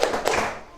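Children in an Indonesian classroom clap a few quick, sharp beats in a clapping chant, led by a trainee teacher. The burst is brief and close, with a slight room echo.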